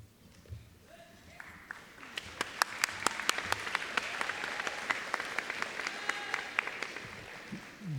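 A high school graduation crowd applauds with scattered sharp claps over a soft wash of clapping, building after a few seconds and continuing steadily, heard from some distance.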